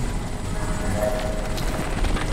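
A helicopter in the video game Crysis gives off a steady, loud rotor and engine drone that fills the whole stretch without pause.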